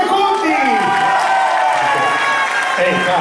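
Audience applause and cheering for Luca Conti, a member of the Orchestra Renzo Biondi, at a winter festival in Piazzola sul Brento; loud, dense clapping mixed with crowd voices throughout.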